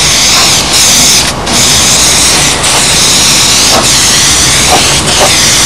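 Primer sprayed in a loud, continuous hissing stream onto a carbon aircraft wing, the spray gun's rush pulsing slightly with brief dips as passes are made.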